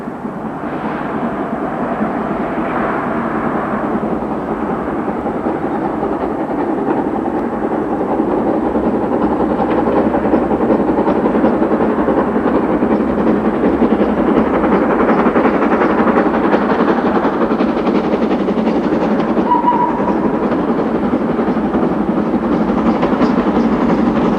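A K1 steam locomotive hauling the Lochaber train out of Fort William toward Glasgow, a loud, steady rumble of engine and rolling carriages that builds and holds close by for the whole stretch, with no talking.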